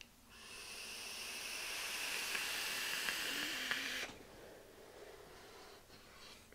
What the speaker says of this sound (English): And I'm vaping this one on the Wotofo Ice Cube on my R80, 70 watts also.